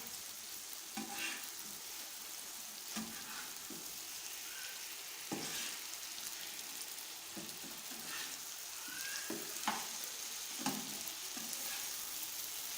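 Chicken fries on a tawa with a steady close sizzle, while repeated scraping and stirring strokes break through at irregular intervals.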